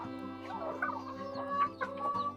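Broody hens cluck softly in short bursts close by, with a steady low hum running underneath.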